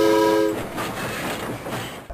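A train sounds a brief tonal horn blast, followed by a rumbling, rattling roll of rail cars passing. The loud rumble fades slightly but continues to the end, with no voices.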